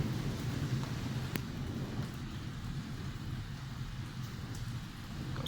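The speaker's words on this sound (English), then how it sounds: "Rain's got a bit heavier there." Steady heavy rain during a thunderstorm in Bath, a dense constant wash with a faint low rumble beneath it and a few brief crackles, no voices.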